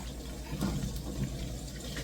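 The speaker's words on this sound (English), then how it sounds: "And I'm going to pour all of this excess grease out." Excess cooking grease poured from a pan into a bowl, a soft, brief liquid pour with a gentle splashing swell in a quiet kitchen.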